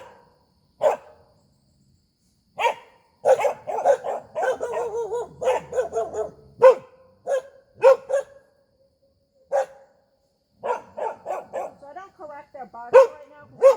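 Two dogs bark in repeated short bursts during a sit-stay training session, with sharp yips and clusters of barks coming close and loud, pausing briefly before another volley; no talk over them.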